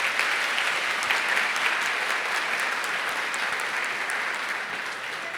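Dense, steady applause from a church congregation welcoming first-time visitors, sustained throughout at an even level with no speech.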